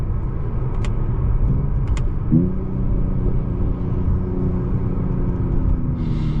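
A steady, deep engine rumble from a 2021 Mercedes-Benz E53 AMG that shifts upward in pitch as the car accelerates, heard from inside at moderate loudness with no talking.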